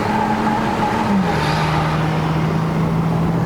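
BMW E90 325i Sport LCI with a naturally aspirated engine revving while driving uphill on the Genting road in Malaysia, a loud, steady engine drone heard from the cabin that drops in pitch once partway through.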